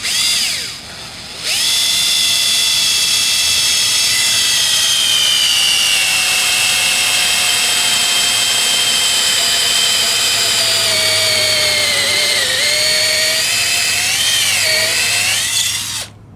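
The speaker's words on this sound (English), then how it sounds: "take your 3/8 inch drill bit and your drill and drill the hole where you've marked" A power drill with a 3/8 inch bit bores through a boat transom, giving a loud, steady whine that runs continuously for about fifteen seconds, its pitch wavering and dipping near the end before the motor stops.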